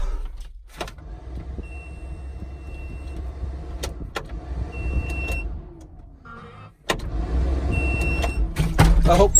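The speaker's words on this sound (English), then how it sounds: "get into your machine and start it up" Caterpillar D-Series skid steer loader engine turning over and settling into a steady low rumble, with a brief dip before the motor picks up again louder near the end; clanks and mechanical knocks ring out close by.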